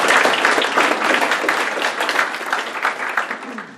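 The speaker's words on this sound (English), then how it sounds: "Let's give them a round of applause." Loud applause from a crowd, sustained clapping that fills the whole clip and slowly tapers near the end.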